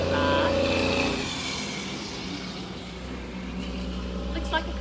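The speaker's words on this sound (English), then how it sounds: "Looks like a concrete truck." Heavy concrete truck rolling past on a road, a loud diesel rumble and engine drone near at first that fades as it moves away, with someone talking throughout.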